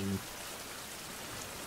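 Steady hiss of rain falling in the survival video game Survival: Fountain of Youth, an even, continuous wash of drops with a brief low thump at the very start.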